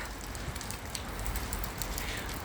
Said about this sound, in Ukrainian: Ага, дощ йде